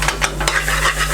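Garlic pickle is stirred into a sizzling curry in a hot pan, with close, loud frying and a few metallic scrapes of a spoon against the pan.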